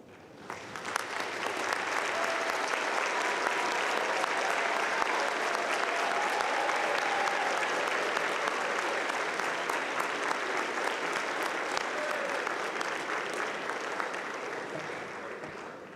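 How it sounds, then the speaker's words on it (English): A large crowd at a commencement ceremony applauds steadily and loudly, the clapping swelling in within the first second and sustaining evenly for the whole stretch before easing slightly at the end. "would you please stand and join in a round of applause"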